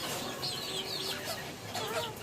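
A young naked neck rooster clucks a few times at close range on a farm in the rain, its short calls rising over a constant background hiss.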